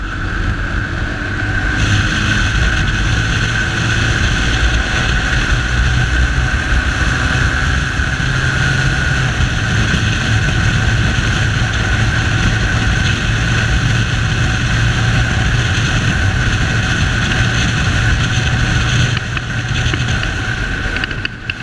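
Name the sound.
Bajaj Pulsar 220F motorcycle riding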